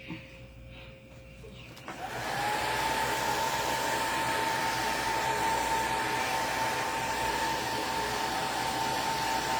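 A hair dryer switches on and runs with a steady, loud whirring hum, blowing over painted craft bottles after a short quieter stretch at the start.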